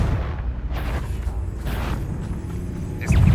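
A Confringo spell explosion in the video game Hogwarts Legacy: a low, booming rumble rolls through, followed by a sudden louder burst at the end.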